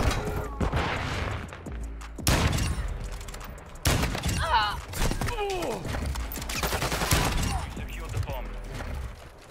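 Gunfire rings out in a first-person shooter match on a fortress map, including sniper shots. Sharp, loud bangs come in repeated bursts and clusters across the whole stretch, along with clattering game effects.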